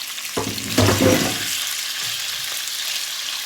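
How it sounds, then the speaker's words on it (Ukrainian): Loud sizzling as meat and garlic hit a hot pan, flaring up briefly then settling into a steady, softer fry. "Хай воно разом з чесничком все смажиться"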